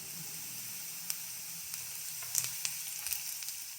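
Beans and garlic fry in a pan for ragi soup, giving a steady, even hiss of sizzling oil broken by a few light spoon clicks and stirring taps. No one speaks.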